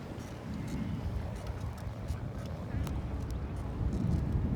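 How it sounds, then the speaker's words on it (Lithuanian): During a bike-packing ride, strong wind buffets the microphone in a steady low rumble with some gusty swells, and faint clicks and rattles sound through it. "Čia dabar vėjas yra stiprus"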